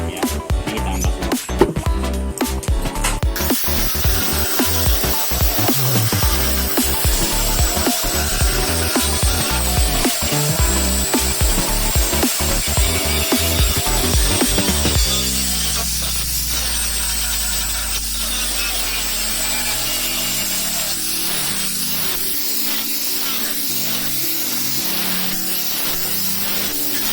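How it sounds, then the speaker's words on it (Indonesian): Loud, continuous abrasive rasping of sanding on a wooden board, steady and close, easing into a softer, smoother scraping halfway through. "Ini kita amplas semua ya, supaya kelihatan rapi."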